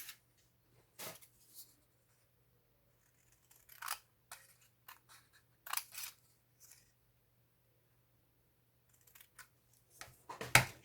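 Scissors snipping through card stock for a handmade scrapbooking card, a few sharp isolated cuts spaced out over quiet, close and crisp, with a denser flurry of snips near the end.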